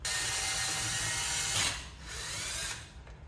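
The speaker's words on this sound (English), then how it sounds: "I'm just gonna go ahead and put it in my drill and see if it gets this off." A power drill spins a 3M Roloc disc against a Honda CRX Si D16 engine head, a steady high whine with a brief surge of grinding before it slows and cuts out.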